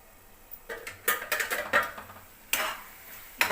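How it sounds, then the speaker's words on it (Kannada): Ash gourd halwa being stirred in a pan over a low flame, with a series of close scraping and tapping strokes of a spoon against the pan at irregular intervals, alone without talk. "ನೋಡಿ ಈಗ ಚೆನ್ನಾಗಿ ಮಿಕ್ಸ್ ಮಾಡಿಕೊಂಡು ಇನ್ನೊಂದು 2 ಮಿನಿಟ್ಸ್ ಲೋ ಫ್ಲೇಮ್ನಲ್ಲಿ ಇಟ್ಕೊಳ್ಳೋಣ"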